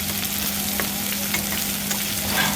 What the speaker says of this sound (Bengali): এই যে আমি একটু ভেজে নেব সরিষার তেল দেওয়ায়।